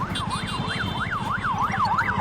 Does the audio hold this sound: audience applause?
no